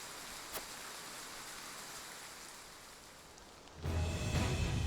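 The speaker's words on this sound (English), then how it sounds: "Rain! Honest to goodness, rain!" Rain falls in the video game Triangle Strategy, a soft steady wash that thickens into a louder, fuller downpour near the end, with no voices.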